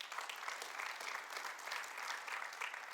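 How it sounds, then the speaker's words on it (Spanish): A church congregation claps and applauds in praise during a Spanish-language service, a steady, dense wash of clapping that holds for the whole stretch with no pauses. "Denle un aplauso a Dios por eso, mi hermano."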